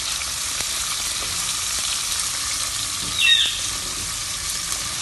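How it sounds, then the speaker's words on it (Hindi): Onions fry in oil in a pan for a ridge gourd sabzi, a steady soft sizzle running throughout with a brief louder stir or clink near the middle. "और इन अनियंस को तकरीबन जो है आपको जब थोड़े से लाइट गोल्डन ब्राउन हो जाए जब तक आपने इनको फ्राई करना है।"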